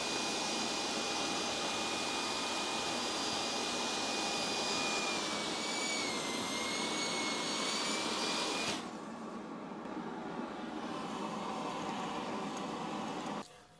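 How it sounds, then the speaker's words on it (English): A workshop dust collection system roars loudly and steadily with a whining tone, then drops to a lower hum before cutting off at the end. "But first, I gotta start my dust collection."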